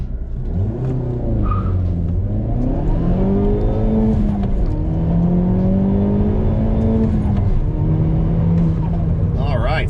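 A Hyundai Veloster revs and pulls hard from a standstill toward 60 mph, its engine note climbing through several rising gear sweeps with shift breaks in between, loud and close from inside the cabin.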